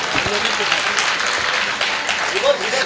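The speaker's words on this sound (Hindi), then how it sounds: "आप फिर से ताली बजाएंगे" Audience applause for a comic poet on stage, a steady dense wash of clapping filling the short moment, with faint voices mixed in.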